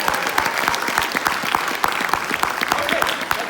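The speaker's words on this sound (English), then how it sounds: "can I get a round of applause for the..." A round of applause from a school graduation audience, with steady, dense clapping filling the space and a few louder individual claps standing out.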